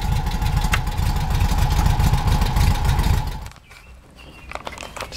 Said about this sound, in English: Just love the way this thing starts up.